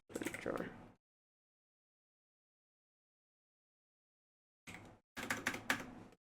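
Rapid keystrokes clatter on a loud computer keyboard while code is typed, in a dense burst at the start, then a pause of silence and two more close bursts of clicking near the end.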